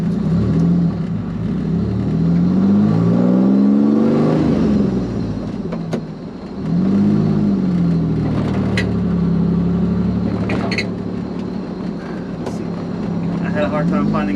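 A supercharged Pontiac Fiero race car engine drones and revs in swelling, falling pulls, loud and close from inside the car, with a brief dip around the middle and someone talking over it.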